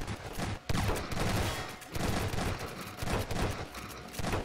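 Rapid bursts of shotgun gunfire in a multiplayer first-person video game, loud and dense, firing continuously throughout with almost no pause between blasts.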